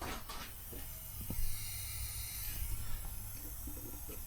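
Compressed air hisses steadily from a small leak while a tank is being pressurized. It is a continuous, moderately faint hiss with a few light knocks and clicks over it.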